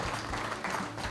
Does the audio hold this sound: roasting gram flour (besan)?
no